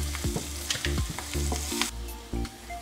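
Garlic, green chili and curry leaves fry in a pan over a medium flame, a close sizzle broken by rhythmic spatula scrapes that fade into a quieter hiss in the last second.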